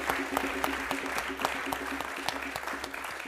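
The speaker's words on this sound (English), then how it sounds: "please give them a round of applause" Conference audience applause at a reparations event closing plenary, steady scattered clapping from many hands at a moderate distance, fairly quiet and continuous for a few seconds with no talk on top.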